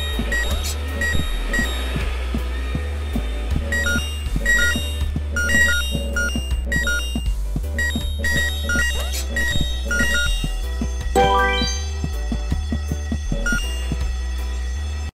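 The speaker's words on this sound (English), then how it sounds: "The ear-splitting sound was the fire alarm." The fire alarm in the Horace PC video game rings as a loud, repeating electronic tone pattern over a steady low throbbing hum, pulsing in regular bursts throughout.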